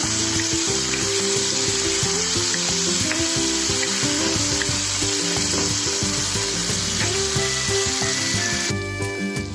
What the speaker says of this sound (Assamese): বিলাহীখিনি প্ৰায় একেবাৰে তেল ফুটি আহিছে।